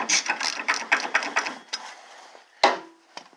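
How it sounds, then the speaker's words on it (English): A hand socket ratchet wrench tightens a bolt back on, making a quick run of close, loud ratcheting clicks, then a few separate knocks and clicks. "I don't have no impact wrench, but I use a regular socket. So there you go. Tighten her up."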